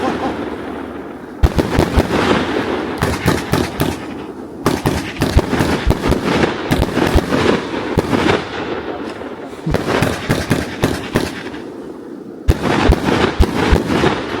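A Shock Wave 9000 fireworks battery fires a long, dense barrage of loud cracking bursts and pops, going in rapid clusters with brief pauses, close and powerful throughout.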